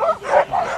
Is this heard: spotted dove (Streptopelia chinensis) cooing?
no